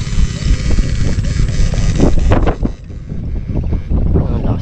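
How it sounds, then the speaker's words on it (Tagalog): Strong typhoon wind buffets the microphone in loud, continuous roaring gusts near a fish-catching spot, with brief thumps and swells in the rush. "Ang lakas ng hangin ha."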